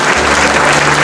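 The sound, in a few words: congregation applauding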